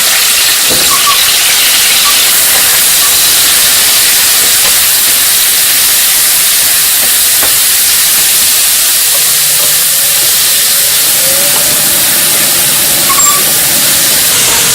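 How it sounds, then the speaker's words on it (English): Pork mince frying in a pan, a loud continuous hiss of sizzling that holds steady throughout and stays alone with no talk. "I'm cooking all the ingredients, even the pork mince, before I am going to wrap them up"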